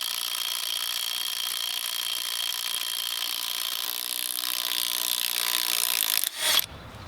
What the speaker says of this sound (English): Try our Milwaukee Impact